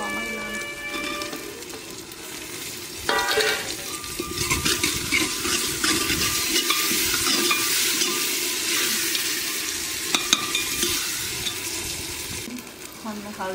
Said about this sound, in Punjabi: ਪਿਆਜ ਭੁੰਨੇ ਗਏ ਤੇ ਹੁਣ ਆਪਾਂ ਟਮਾਟਰ ਪਾਵਾਂਗੇ